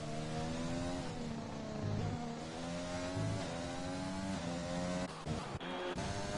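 Formula 1 race cars in F1 2020 at the Hungary circuit drone past, their engines holding a steady whine with a few pitch changes and a brief dip near the end. The sound is faint and distant.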